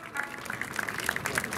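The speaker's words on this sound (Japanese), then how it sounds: "皆さん大きな拍手でお迎えください" Crowd at an outdoor Liberal Democratic Party campaign rally in Chatan, Okinawa, claps in scattered, fairly faint applause, individual claps standing out over a soft wash of noise.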